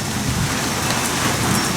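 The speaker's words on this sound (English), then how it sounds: "when it's raining like it is now" Steady rain falls in a dense, even hiss with no breaks, close by and fairly loud.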